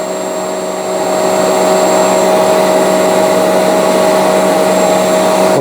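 A Shark CarpetXpert HairPro EX304 carpet cleaner switches on and runs in StainStriker mode, a loud steady motor whine with a constant pitched hum that rises after the first second and holds without a break.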